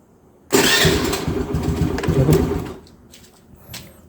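A motorcycle with a lithium-ion 18650 battery pack and a carburetor overflowing with petrol starts on its electric self-starter, a loud whirring crank that catches and settles into a softer idle, close by.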